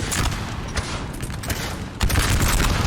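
Pistol and massed musket fire in Napoleon Total War, a dense, continuous crackling fusillade of overlapping shots that swells louder toward the end, with no talking.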